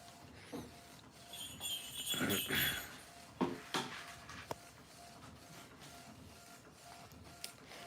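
An Epson photo printer feeds and prints a page with whirring carriage runs and sharp mechanical clicks and clunks. A short loud stretch comes early, then quieter intermittent knocks, with no speech.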